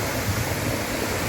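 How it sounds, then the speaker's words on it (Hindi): Strong, swollen river water rushes past a crocodile-mouth-shaped rock at Devjhar, a dense continuous roar with no break, loud and close. "पानी का बहाव आज थोड़ा ज़्यादा है"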